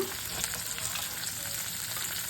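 Potatoes, onion and slit green chili fry in a pan for a spicy small-fish curry, giving a steady, close hiss and crackle of hot oil with no voices.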